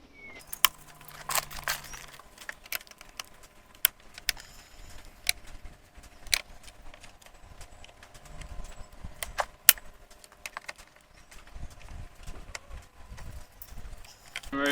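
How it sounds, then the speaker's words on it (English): Phillips head screws being removed from the top cover of an older Victa push mower, with sparse light metallic ticks, clicks and small taps from the screwdriver and screws over a quiet background. "We'll remove the screws at the top"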